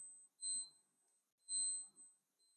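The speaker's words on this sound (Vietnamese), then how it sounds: "Báo thức nè cả nhà." A wristwatch alarm beeps in two short bursts of high, thin electronic tones, quiet and close, separated by a pause of silence.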